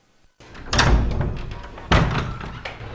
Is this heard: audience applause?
no